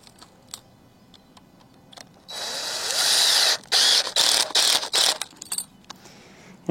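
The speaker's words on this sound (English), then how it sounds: "Just run them in with a couple exterior wood screws" A power drill drives exterior wood screws into wood for a post repair. A steady whir of about one second runs up close, then gives way to a string of short bursts as the screw seats.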